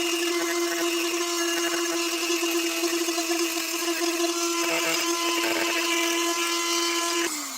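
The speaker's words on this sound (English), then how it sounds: "The Dremel, I'm going to show you one more time. Maybe I can carve some of this out with it" A Dremel 4300 rotary tool carving runs continuously at high speed with a steady whine, loud and close, with slight changes in load as it bites into the material, then spins down at the end.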